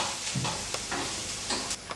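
Ginger and garlic fry in hot oil until golden brown and crispy, a steady close sizzle with brief stirring scrapes over two seconds.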